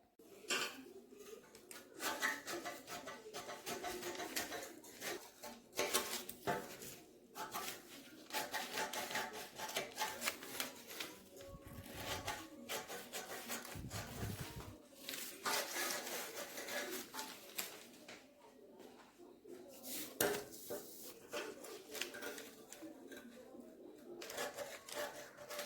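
Scissors snip through fabric while cutting a blouse neck at a boutique tailoring table, with repeated rasping cuts and soft cloth rustles, faint and close.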